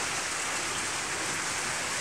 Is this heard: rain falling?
yes